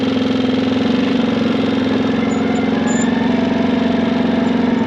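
A 450 engine fitted with a CVTECH clutch runs steadily at about 2400 rpm, a loud close rhythmic mid-pitched thrum holding an even pace.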